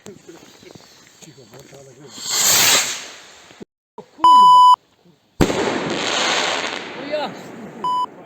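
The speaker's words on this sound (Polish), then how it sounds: "Kit jest rakiet, rakieta dum bum." A firework rocket whooshes upward with a rising hiss, followed by another fizzing launch; short electronic beeps and voices interrupt in between.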